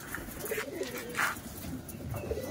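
Soft, intermittent cooing from sale pigeons, including white Allahabadi and teddy birds, rises and fades in short phrases amid mild background noise, with a brief brighter call midway.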